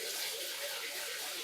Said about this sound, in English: I'll just use some fresh water.